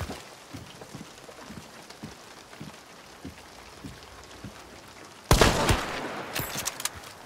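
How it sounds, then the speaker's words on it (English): Heavy rain hisses steadily in the Hunt: Showdown video game, a constant wash of falling water with soft, irregular thuds beneath, then a loud sharp crack about five seconds in followed by a rougher, louder rain-filled stretch. "now the true shit show starts, man, with the heavy rain"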